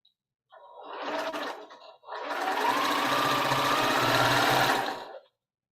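A sewing machine runs while chain piecing quilt patches: one short burst of rapid stitching, a brief pause, then a longer, steady whirring run, all close and loud.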